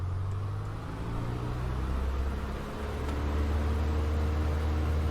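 Steady droning engine of a PA-38 Tomahawk light aircraft on the runway in Microsoft Flight Simulator, a continuous low hum and broadband roar that builds slightly as the throttle comes up, with no talk.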